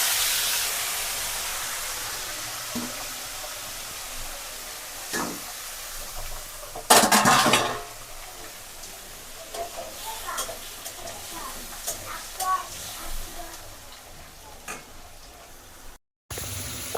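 Cauliflower pieces frying in leftover fish oil with cumin in a home kitchen pan, giving a steady soft sizzle and hiss broken by a few sharp clatters and stirring scrapes.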